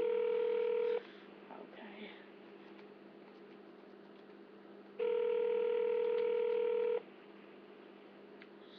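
Telephone ringback tone on a line during a prank call, sounding twice as a loud steady electronic burr lasting about a second and then two seconds, separated by a long quiet gap of faint line hiss.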